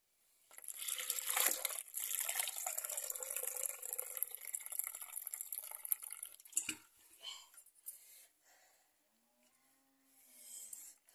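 Water from boiled potatoes and sweet potatoes pours and splashes steadily out of a cooking pot for several seconds, then trickles off into a few drips and quiet clinks.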